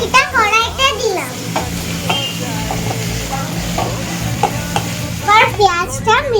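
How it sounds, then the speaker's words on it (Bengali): Chopped onion hitting hot oil in a wok, already seasoned with cardamom and cinnamon, giving a loud, close sizzle with stirring scrapes, while a voice talks over it at the start and end. "এবার পেঁয়াজ কুচিটা কড়াইতে দিলাম।"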